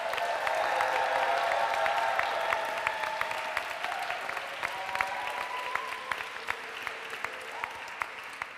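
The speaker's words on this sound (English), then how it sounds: "Big round of applause." At a university graduation ceremony in Rochester Cathedral, the audience applauds the brass band and organist; dense reverberant clapping starts full and gradually thins into scattered individual claps toward the end.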